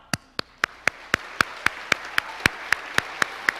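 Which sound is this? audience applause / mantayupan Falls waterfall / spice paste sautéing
audience applause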